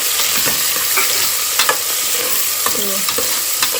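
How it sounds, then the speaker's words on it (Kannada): Finely chopped onions fry in oil in a pan for chicken biryani, a constant close sizzle broken by scattered scraping clicks of a spoon stirring, with no voices. "ಈರುಳ್ಳಿ ಸ್ವಲ್ಪ ಕಂದು ಬಣ್ಣ ಬರೋವರೆಗೂ ಚೆನ್ನಾಗಿ ಫ್ರೈ ಮಾಡ್ಕೋಬೇಕು"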